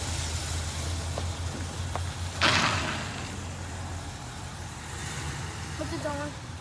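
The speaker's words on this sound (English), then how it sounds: "I'm gonna go up and down the driveway a few times with no kids in the car just to make sure it actually works" A 1969 Chevelle with a newly replaced master cylinder rolls up and down a driveway with a low engine rumble. A sharp thump or door-like clunk is heard midway, and a voice speaks faintly in the background.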